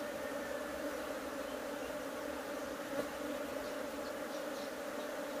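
Honey bees swarm around an opened beehive in an apiary, a dense steady buzzing drone that holds at an even level throughout with no talking.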